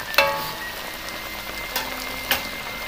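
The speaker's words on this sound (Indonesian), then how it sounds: "Kita goreng sampai ke kuningan atau kecoklat-coklatan" Egg frying in hot oil until golden brown for crispy telur geprek, a steady close sizzle with a few sharp crackling pops, no talking.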